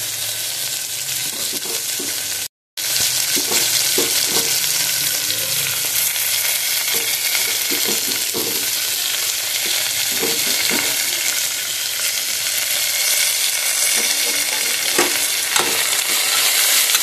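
Onions, green chillies, tomatoes and okra pieces sizzle and fry in a pan for moisture-free moong dal khichdi, with repeated scraping stirs of a spoon over a steady loud hiss, broken by one brief silent gap.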